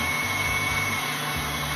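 A KitchenAid stand mixer runs steadily at close range, giving off a continuous whirring motor hum with a faint high whine, no voices.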